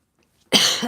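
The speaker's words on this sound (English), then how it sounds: "I'm sorry, I'm coughing." A single harsh cough, close and sudden after near silence.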